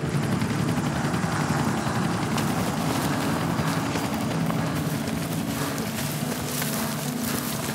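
A steady, loud rotor drone fills the whole stretch, a helicopter flying nearby during a pronghorn net-gun capture, with constant chopping noise and no pauses.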